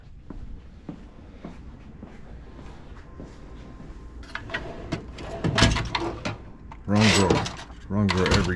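A drawer slides and knocks shut with a woody clatter, near and fairly loud, as someone speaks briefly between the rummaging sounds, during work installing a shore power outlet on a truck camper.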